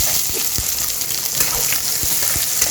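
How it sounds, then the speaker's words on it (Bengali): Chopped onions sizzle in hot oil with whole cumin in a pan for egg curry, a close, bright frying hiss dotted with small pops and crackles. "এবার আমি পেঁয়াজ কুচিটা দিয়ে দিচ্ছি।"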